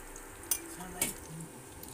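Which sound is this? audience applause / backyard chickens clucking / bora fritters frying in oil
bora fritters frying in oil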